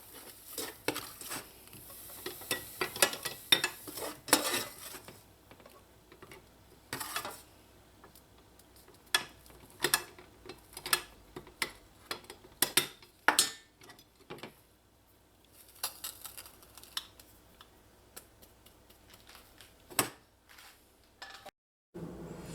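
Boiled potatoes pressed through a potato ricer for aloo pies, giving a run of soft, irregular clicks, taps and squishy pats, fairly quiet and close, with short pauses between squeezes.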